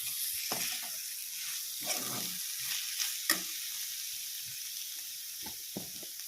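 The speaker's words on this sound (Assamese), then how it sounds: "খৰিচাৰ সৈতে অলপ দেৰি আকৌ ভাজিব লাগিব।" Fish heads fried with khorisa (fermented bamboo shoot) in a pan, quiet sizzling broken by several scraping stirs of the spatula at irregular intervals.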